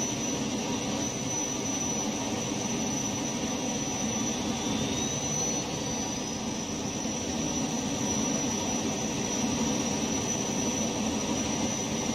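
In the game Unturned, a jet engine roars in a continuous, loud, unchanging drone with a thin high whine riding on top, with no other sounds.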